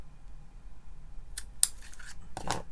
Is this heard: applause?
no